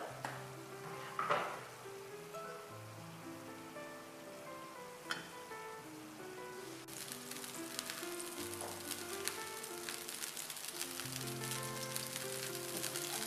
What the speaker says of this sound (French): Je mets les fruits secs et je laisse cuire comme ça en remuant avec la cuillère pour ne pas les brûler.